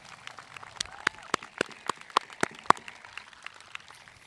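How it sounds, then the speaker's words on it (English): A handful of sharp, separate claps ring out at a high school graduation ceremony over about three seconds, sparse and fairly quiet, fading to a few stray pops at the end. "Give them a little applause."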